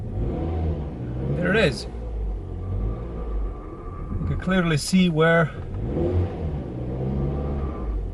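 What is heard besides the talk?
car reversing into garage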